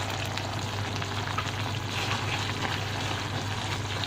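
Pizza sauce with ground and crushed red chilli, salt and sugar cooks in a pan, giving a steady close sizzle and bubbling hiss that runs continuously without pause or voices.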